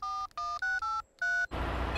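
Telephone keypad dialing tones from a Peppa Pig cartoon: about six short, clear two-tone beeps in a quick irregular run, followed by a burst of broadband noise at the end, with no talking.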